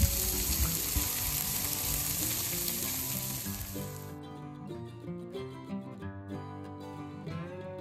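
Strip steaks trimmed from T-bones, with peppers and onions, frying in a pan, giving a loud steady sizzle that drops away after a few seconds, leaving softer crackling under music.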